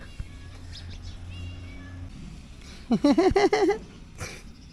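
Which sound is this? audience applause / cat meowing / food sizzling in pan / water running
cat meowing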